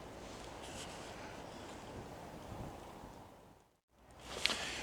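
Wind buffets the microphone beside a small river on a fishing trip, a steady broadband rush that briefly drops out before a louder gust returns.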